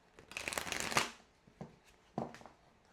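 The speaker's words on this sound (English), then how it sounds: "we gotta shuffle these some more" Tarot cards are shuffled in a quick riffle that builds to a crisp flutter and snap, followed by two short, separate shuffling bursts, all close and fairly quiet.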